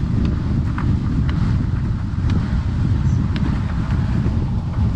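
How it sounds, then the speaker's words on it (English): A strong headwind roars over the microphone while riding a Pantheon Pranayama longboard on rough pavement, a loud, steady, low rumbling buffet lasting throughout with no break. "The wind is brutal today."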